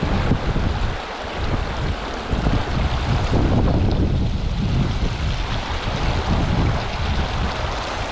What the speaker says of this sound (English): I'll wait for the wind to die down.